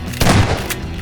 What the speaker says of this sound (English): the shotgun is the true workhorse of the group